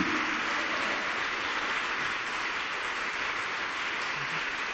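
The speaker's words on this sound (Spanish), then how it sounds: "Apúrate, aplaude." A church congregation applauds together, a dense, steady wash of clapping that stays loud and even throughout, with no voices standing out.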